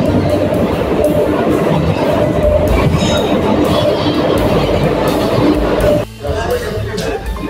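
Train pulling in at a railway platform in India, a loud continuous rumble of wheels and carriages with a busy crowd murmur, dropping abruptly near the end as the noise shifts.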